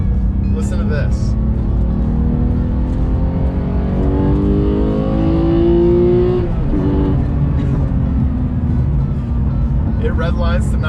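A 2018 Porsche 911 GT3 engine revs up through rising gears to a high-pitched scream near its 9,000 rpm redline and then settles, loud and close, with some talking over it.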